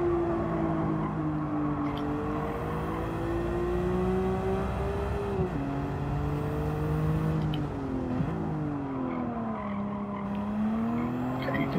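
Race car in Gran Turismo 7 braking hard and downshifting, its engine whine dropping and rising in pitch with gear changes under steady road noise, while a voice talks over it.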